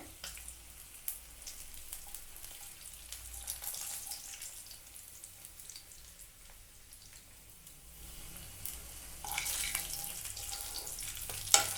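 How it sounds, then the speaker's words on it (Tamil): Fish fries in a pan with little oil, giving a soft, continuous crackling sizzle that swells slightly toward the end, fairly faint and with no voices. "ரொம்ப ஈஸியாக ஆயில் எதுவும் அதிகமாக சேர்க்காமல் ஃப்ரை பண்ணி எடுத்துட்டோம்."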